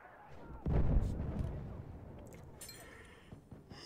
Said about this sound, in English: Oh, AT gun.